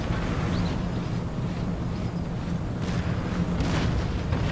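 Artillery fire in Empire: Total War, distant booms rolling over a dense, continuous battlefield rumble, with no voices.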